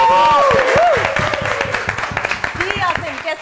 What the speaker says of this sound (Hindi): तालियां। हूटिंग।